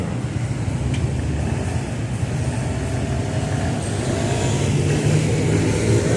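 A BMW M2 passes by on a street in Spa, its engine note rising and fading over steady background road noise, with no voices.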